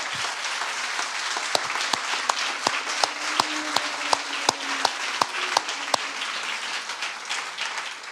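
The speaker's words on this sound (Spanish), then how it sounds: "Démosle un aplauso al Señor, alegrémonos por eso." A church congregation applauds during a Spanish sermon, loose scattered clapping with a handful of sharp, distinct claps standing out near the microphone over a softer background patter, plus a faint sustained voice underneath.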